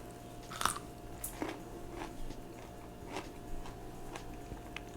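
Someone bites into a month-old fermented garden pickle and chews it, a sharp crunch followed by several wet, crunchy chews up close, over a steady low background hum.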